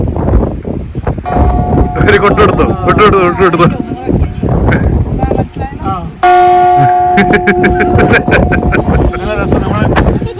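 Church bells peal in London, ringing out loud, repeated tones over a busy outdoor background while people talk nearby.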